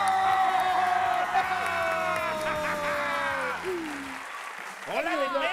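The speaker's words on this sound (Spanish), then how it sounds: "un fuerte aplauso para Pichas y" Television studio audience applauds and cheers over a loud musical cue with a pulsing bass beat, the clapping and whoops continuing as the music drops away near the end.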